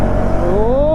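A 2025 KTM Duke 390 Gen 3 motorcycle pulls hard on a quick shifter, its engine loud and close, with a steady drone whose pitch climbs smoothly as it accelerates through the rev range.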